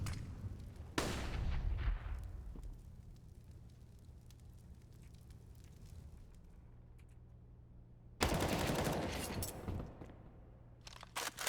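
Two bursts of gunfire from an esports Counter-Strike style match, a loud volley at the start and another a few seconds later, separated by quieter game ambience with faint clicks and hum.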